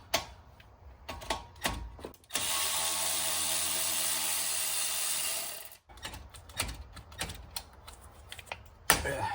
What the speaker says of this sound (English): I'm going to use my Milwaukee electric ratchet just to make it fast.